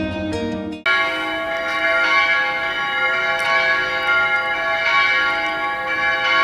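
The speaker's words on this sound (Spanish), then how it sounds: "ya se han parado la campana" A church bell rings with a loud ringing tone that sustains and swells steadily through the whole stretch, heard alone with no talking, after a brief cut at the start.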